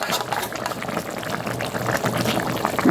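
Young coconut shoots boil in a pot of water, a steady close bubbling and churning with soft liquid sloshing throughout, no talk over it.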